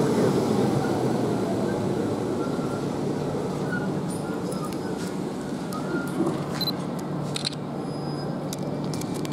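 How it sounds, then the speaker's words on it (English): Gatwick Express train passing through Slough station, a steady rolling rumble of wheels on track heard from nearby on the platform, with faint high squeals and clicks and no talk. "Gatwick Express at the back."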